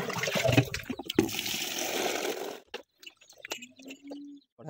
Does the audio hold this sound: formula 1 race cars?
no